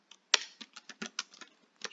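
Numbers typed on a computer keyboard while working in a spreadsheet, about a dozen crisp, close key taps in an uneven rhythm, one sharper press near the start, with no talking.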